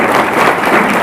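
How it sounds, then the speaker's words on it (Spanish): Loud, dense applause from an audience at a Costa Rican journalists' day ceremony, a continuous wash of many hands clapping without a break. "yo quiero que le den un aplauso a Joel"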